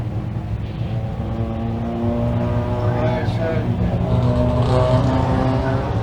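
Late model race cars at a speedway, a loud continuous engine drone with rising revs as the cars pass, heard under a commentator talking.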